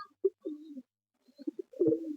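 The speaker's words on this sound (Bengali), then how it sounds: "এটা নর পায়রা আর ওদিকেরটা মাদা" A male and female pigeon pair, Madras pigeons with gorgeous eyes, coo in short soft bursts close by, with a quiet gap midway before a fuller run of cooing.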